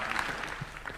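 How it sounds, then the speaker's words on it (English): Brief burst of applause at a formal document-signing ceremony at State House, Kenya, hosted by President Ruto: a steady patter of hand claps from a gathered audience, continuous through the moment. "a round of applause, please"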